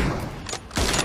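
Gunfire in the video game PUBG: a couple of loud, sharp bursts about half a second apart, each followed by a short rumbling decay, with no talk.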